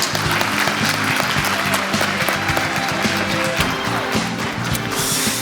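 A keynote session audience applauds to welcome two security experts onto the stage, loud sustained clapping from a large crowd with music running underneath.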